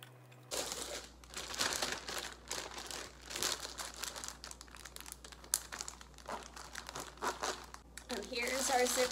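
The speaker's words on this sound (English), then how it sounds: "Here's our Ziploc bag of pineapple chunks." A plastic Ziploc freezer bag holding pineapple chunks crinkles and rustles close up, with irregular bursts of crackling that come and go and grow busier toward the end.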